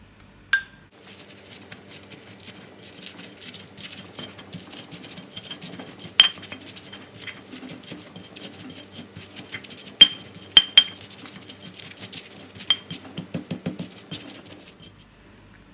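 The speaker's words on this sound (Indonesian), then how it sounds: "Cabai rawit dan cabai merahnya diulek." Red chilies and bird's eye chilies pounded and ground with a mortar and pestle, giving irregular scraping, tapping and clinking strokes with a few sharper knocks, close up and alone.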